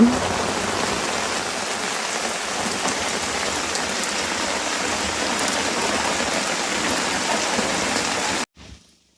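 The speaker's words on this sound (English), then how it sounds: "as you can tell, it's raining" Steady, dense rain pours down at a campsite in Bon Echo Provincial Park, a close, even hiss that holds for several seconds before cutting off abruptly.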